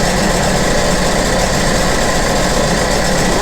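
Engine of a 2014 Sea-Doo GTX 215 jet ski running steadily, a loud, dense rumbling drone with broad noisy vibration, constant and close with no voices.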